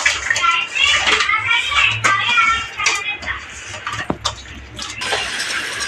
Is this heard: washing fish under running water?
yes